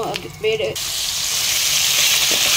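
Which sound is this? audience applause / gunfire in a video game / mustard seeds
mustard seeds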